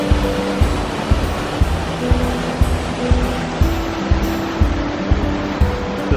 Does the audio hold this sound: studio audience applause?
no